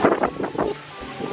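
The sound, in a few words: strong wind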